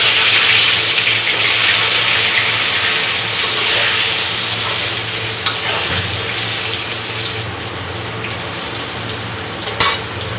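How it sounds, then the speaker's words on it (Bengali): Large chunks of washed potato fry in hot oil, a steady, loud hiss and sizzle with occasional stirring clinks and a few sharper knocks near the end. "আলু বড় বড় করে কাট করে রেখেছিলাম ধুয়ে পরিষ্কার করে এইবার ভেজে নেব"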